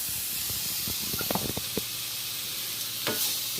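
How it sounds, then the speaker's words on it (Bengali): Garlic paste sizzles in a hot pan during a home-cooked river fish curry, a soft steady hiss with a cluster of small clicks and pops and a later brief burst, close and with no voices. "আর এখানে একটু রসুনের পেস্ট, সেটা দিয়ে দিচ্ছি।"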